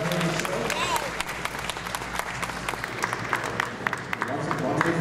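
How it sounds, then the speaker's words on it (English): Audience at a hypnotist show breaks into a big round of applause, dense clapping sustained for several seconds with some voices mixed in over the crowd. "everyone give them a big round of applause"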